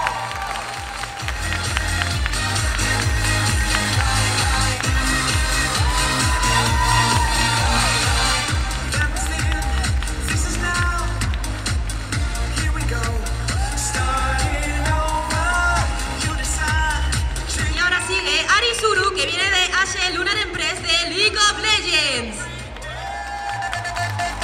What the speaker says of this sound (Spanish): Venga, ese fuerte aplauso para Isiliel de Sakura Kinomoto.